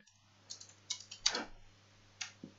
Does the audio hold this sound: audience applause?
no